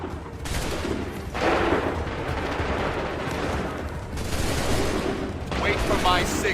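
Massed musket volleys in the video game Assassin's Creed III crackle as a dense, sustained roar of gunfire with booming swells. Shouted voices mix in under the barrage.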